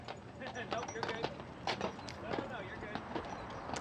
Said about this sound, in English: hitched its famous Budweiser Clydesdale horses to a carriage for a march around Las Vegas